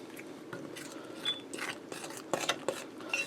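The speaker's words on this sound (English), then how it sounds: "Give that a stir with my fork." A fork stirs sticky flour dough for a beef pot pie crust in a bowl, giving faint, irregular scraping clicks and soft sticky taps against the bowl, close and quiet with no talking.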